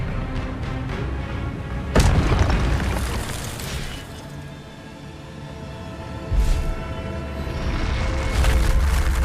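Expelliarmus spell cast in the video game Hogwarts Legacy, loud booming bursts with sharp onsets, one near the start and another later, over a rumbling background.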